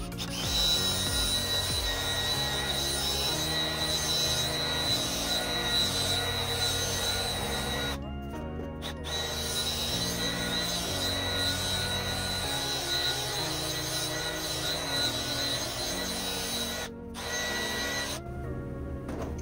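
Continuous gritty rubbing of wet sanding on a car headlight lens, steady and close, with a few brief pauses between strokes.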